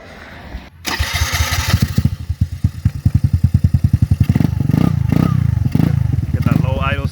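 A 2008 Piaggio Fly 150cc scooter fitted with a Turbokit GMax 4T exhaust cranks over with rapid rhythmic pulses, catches, and settles into a steady, loud nearby running note with some clatter, while people talk nearby.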